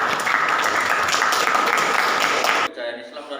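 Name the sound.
applause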